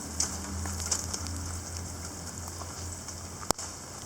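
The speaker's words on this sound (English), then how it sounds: "It's just a quick downpour." A quick heavy rain downpour falls as a dense, steady hiss of drops on surfaces. A few louder drips and one sharp tap stand out near the end, with no talking.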